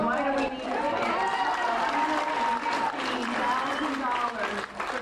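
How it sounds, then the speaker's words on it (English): Steady applause from a crowd at a school board meeting fills the room, sustained and fairly loud, with voices mixed in under the clapping. "that applause was short-lived, turning to boos and unrest"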